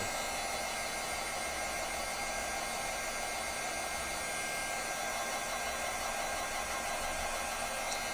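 A hair dryer, used to dry a card-making craft project, blows with a loud, steady hiss across the whole stretch, unbroken and with no talking.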